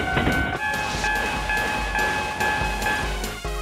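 A Plarail toy locomotive on a mountain-road layout plays recorded train sounds: a whistle-like tone and rhythmic rail clatter in repeating bursts, fairly close and loud, without voices.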